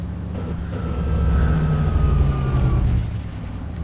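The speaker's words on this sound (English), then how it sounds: "But if I really jam down on the brakes, I get a much harder braking sound." A Mercedes NG1631 truck braking hard in Euro Truck Simulator 2, with a low engine rumble and a thin tonal whine that swell for a couple of seconds and then ease off, with no one talking.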